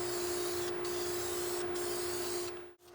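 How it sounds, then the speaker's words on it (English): Etch primer sprays steadily from an aerosol can as a continuous loud hiss, briefly pausing twice and then cutting off near the end. "I'm going to spray some good etch primer on it"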